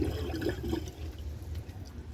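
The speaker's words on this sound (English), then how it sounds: "I have to add some water to the bowl first." Water splashes and pours into the bowl of a skirted American Standard Cadet 3 toilet, a faint gurgling wash that fades to a quiet trickle.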